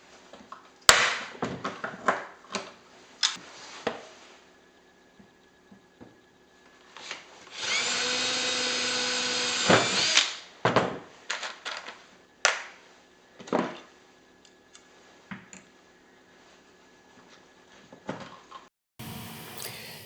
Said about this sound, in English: We'll pop rivet this plywood blank on first.